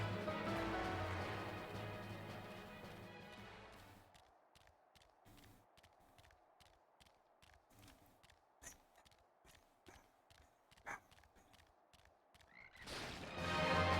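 A frog croaking in Final Fantasy XIV: after loud game music fades, scattered soft croaks and clip-clop-like taps sound over a quiet backdrop, with music swelling back at the end.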